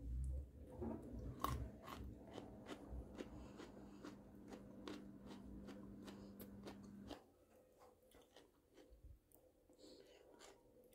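Crunchy homemade gherkin pickle being chewed close up, a steady run of quiet crisp bites and munching for several seconds before it fades softer toward the end, no talk.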